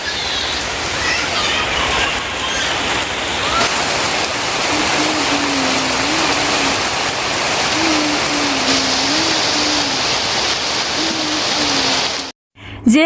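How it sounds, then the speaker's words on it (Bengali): Heavy rain pours steadily and loudly, most likely drumming on the tin roof of a house during hot weather. The downpour is continuous from start to finish, with a faint low hum running beneath it and a brief dropout near the end. "আজকে এই যে চলে এসছে বৃষ্টি প্রচুর পরিমাণে"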